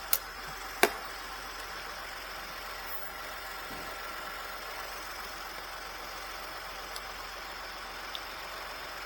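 A Ford F150 engine idles with a steady, quiet mechanical hum and light ticking, and two sharp clicks come near the start, with no one talking.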